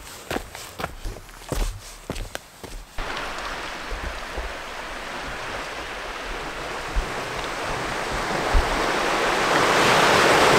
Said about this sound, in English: I'm gonna show you the ocean that we have right from here.